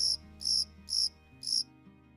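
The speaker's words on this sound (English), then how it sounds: "If you go silent and all you hear is crickets" Crickets chirp in four evenly spaced bursts, each a bright buzzing trill, loud and close over a faint steady background hum.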